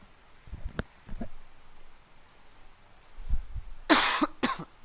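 A man coughs several times: a few soft, short coughs early on, then a louder, sharper burst of close coughs near the end. Quiet room tone fills the gaps.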